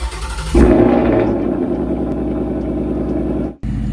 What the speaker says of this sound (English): And of course, we have to get a cold start.